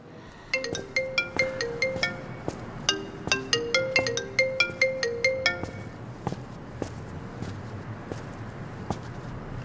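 A mobile phone ringtone plays a bright, repeating melodic tune for several seconds, fairly loud and close. It then stops, leaving soft tapping and room noise.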